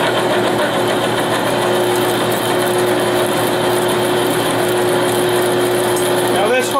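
A drill press boring a hole in metal for a plow repair, a steady loud motor whine with a constant hum running unbroken throughout, close by.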